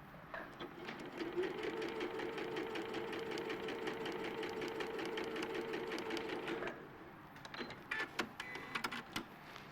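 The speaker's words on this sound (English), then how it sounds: "We're going to sew those 2 pieces together." A sewing machine stitching two fabric pieces together runs in a steady rapid whirring hum for several seconds, then stops, followed by a few clicks and brief handling sounds.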